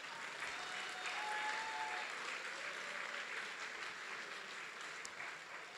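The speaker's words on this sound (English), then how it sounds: "Another round of applause for them" Applause at a programming contest closing ceremony for the winning team, a sustained, even roar of many hands clapping in a large room, heard alone without speech.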